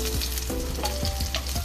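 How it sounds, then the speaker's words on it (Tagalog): Onion sautéing in a hot pan for chicken afritada, a close sizzle with crackling bursts and short scraping stirs, no voices. "Gisa lang natin to guys."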